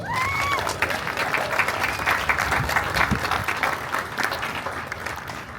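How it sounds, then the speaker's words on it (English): Crowd applause at an Audie Murphy Day ceremony in Farmersville, Texas, steady dense clapping that holds at full strength for several seconds, with some voices mixed in. "Give them a round of applause."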